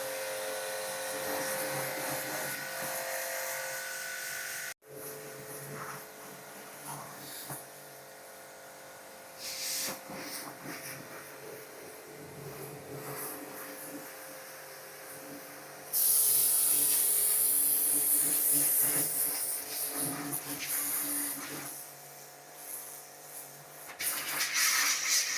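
A budget pressure washer pump sprays plain water over a foam-covered car, a continuous hissing spray with a pump drone that stops briefly, then resumes and grows louder and harsher partway through.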